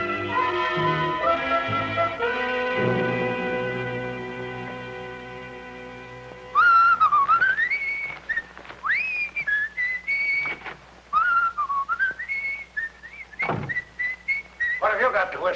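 A person whistles a wavering melody, bright and close, after a stretch of sustained musical tones, with short pauses between phrases.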